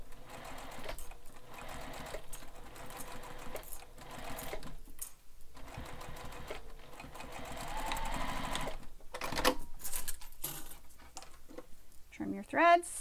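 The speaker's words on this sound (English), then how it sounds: "presser foot back down, and continue stitching along" A sewing machine stitches along a seam of a Manhattan Bag by Emmaline Bags, running in a steady, close mechanical chatter with brief pauses and slight changes in pace before a louder clatter at the end.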